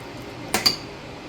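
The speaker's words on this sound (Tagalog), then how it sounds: "Hugas na yung plato ngayon mga pa." Two quick clinks of dishes, a pair of sharp knocks about a tenth of a second apart, close by in an otherwise quiet kitchen during dishwashing.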